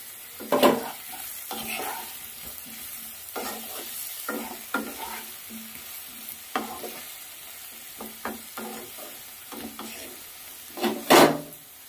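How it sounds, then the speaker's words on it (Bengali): Onion and potato frying in a covered pan, lid lifted and the mix stirred, giving repeated close scraping strokes over a soft sizzle, with a couple of louder clanks. "ঢাকনাটা খুলে একটু নাড়িয়ে দেবো।"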